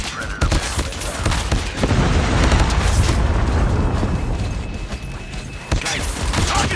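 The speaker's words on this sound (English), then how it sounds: "Predator missile inbound." Video game explosions from Call of Duty Mobile, with a predator missile strike producing dense, continuous booming blasts and bursts of gunfire-like crackle that run loud throughout, briefly dipping near the end before resuming.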